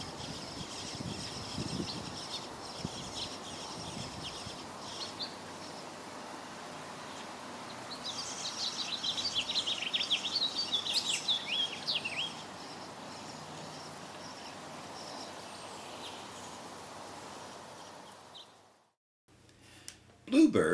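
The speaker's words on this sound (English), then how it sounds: "The bird you hear singing in the background is the house finch." A house finch sings in the background near a bluebird nest, a run of bright warbling phrases over steady insect-like hiss, loudest in the middle of the stretch and fading before a sudden knock at the end.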